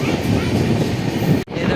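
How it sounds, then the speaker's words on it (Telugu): A passing train, the Andaman Express, gives a loud, steady rumble of wheels on rails heard nearby, with a sudden short break near the end. "ఏదో ట్రైన్ అయితే వెళ్తుంది."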